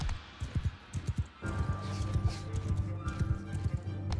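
Horses galloping in the Mount and Blade Bannerlord video game, rhythmic thudding hoofbeats, sparse at first and then joined by a dense rumble of battle noise.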